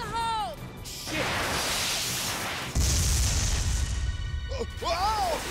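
A grenade blows up in the sci-fi shooter Binary Domain with a loud crashing boom and a rumbling tail. It is framed by whooshing effects and shouted voices before and after.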